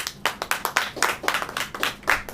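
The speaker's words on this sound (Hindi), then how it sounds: "ताली बजाइए" A church congregation claps hands together in a steady, rhythmic beat, many sharp claps close and fairly loud, with no talking over them.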